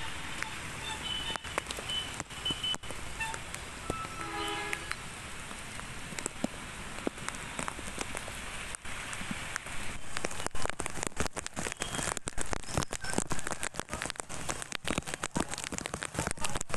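Heavy monsoon rain falls across Bhavnagar city, a steady dense hiss of drops on surfaces that holds throughout and grows denser and louder toward the end.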